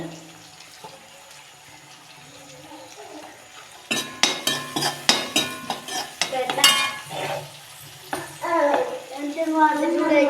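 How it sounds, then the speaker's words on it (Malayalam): Onion and garlic being sautéed in a pan on a Kerala kitchen stove: quiet at first with a voice talking, then a brisk series of clanking spatula strikes and scrapes against the pan, close and fairly loud. "നന്നായിട്ട് വഴറ്റി കൊടുക്കാം കേട്ടോ"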